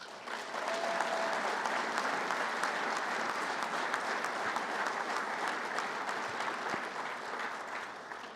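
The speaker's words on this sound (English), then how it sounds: "I want a special round of applause for these 2 guys." Sustained applause from a large audience at a U.S. Hockey Hall of Fame induction ceremony, a dense, even wash of clapping that holds steady throughout.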